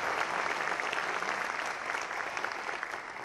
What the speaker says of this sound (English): So if I could get a round of applause for the staff at the Chamber.